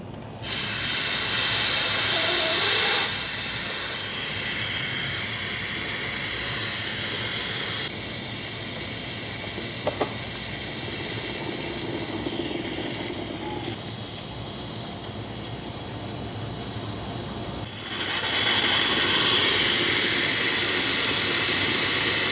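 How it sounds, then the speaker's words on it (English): Hot steam pressure being slowly released from a machine, a loud continuous hiss that holds steady for long stretches, eases off in the middle and surges back near the end, with no talking. "Once the machine stops producing steam"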